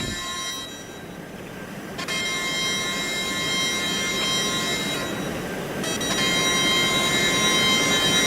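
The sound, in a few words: Eurostar train arriving in RO-Scale Sandbox video game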